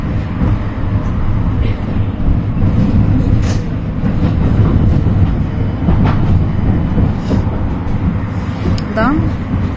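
A tram rumbles steadily along its rails with a loud, continuous low drone and occasional squeals, heard from inside the car near a tram turning loop.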